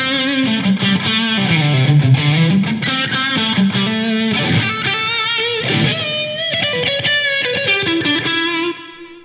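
Electric guitar played through a Tube Screamer overdrive on a Taurus SH3 Stomp-Head, with reverb and delay added, gives a steady, loud distorted run of sustained notes and chords with echoing tails, ending abruptly near the close.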